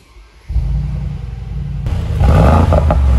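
A Brabus G700 Widestar engine barks to life after a quiet moment, settling into a deep rumbling idle before a sharper rev swells louder and harsher, close and unaccompanied by talk.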